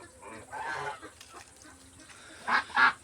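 A few honking quacks from a duck, one murmur early then two loud nasal calls close together near the end, with faint background noise.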